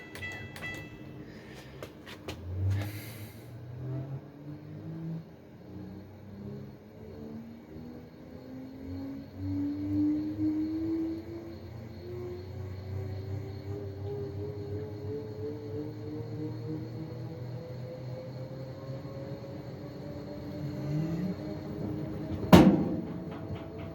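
A Whirlpool Bravos XL washing machine runs its spin cycle, a low hum and rumble climbing steadily in pitch as the drum speeds up, moderately quiet, with a clunk near the start and a sharp knock near the end.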